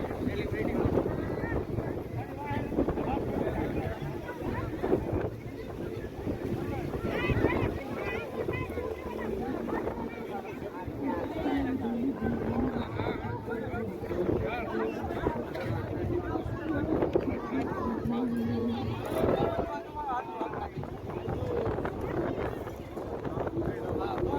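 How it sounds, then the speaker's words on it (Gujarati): Strong wind on a hilltop buffets the microphone in a steady low roar, with people talking throughout. "મિત્રો ઉપર જોરદાર પવન આવતો હોય છે એકદમ ફર્સ્ટ ક્લાસ ઠંડી ઠંડી હવા આવતી હોય છે"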